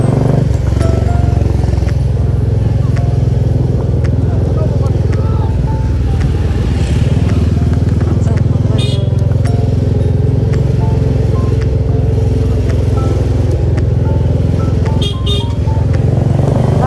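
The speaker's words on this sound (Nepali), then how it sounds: "बाइकहरू त आउने जाने गरिरहेछ" Motorcycle engines rumble and idle close by in a long traffic jam on a hill road, a continuous loud low drone with occasional revving and clatter, while people speak faintly underneath.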